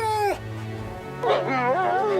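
A wolf whimpers in two short bursts, the first a high, falling whine, then a pause and a longer wavering whine with rising and falling pitch, close and fairly loud.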